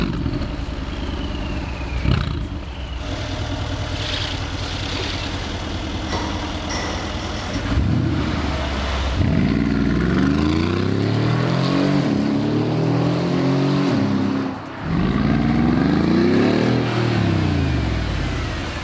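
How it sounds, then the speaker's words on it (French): A tuned Mercedes G63 Brabus engine revs hard and repeatedly. Its turbo whooshes and the engine note rises and falls in several loud, close surges over a rumbling idle. "T'entends le bruit du turbo?"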